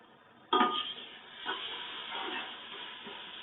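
Ginger garlic paste hits hot biryani masala in a pot with a sudden sizzling hiss, then a spoon stirs through it with soft scrapes under a continuing low frying sizzle.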